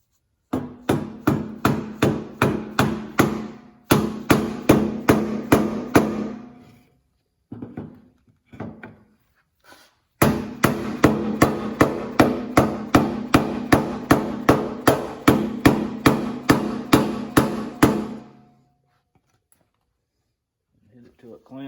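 Repeated hammer blows on a block of wood seat a fuel pump clamp on a Can-Am Commander, with steady rapid strikes in bursts of several seconds, loud and close, broken by short pauses.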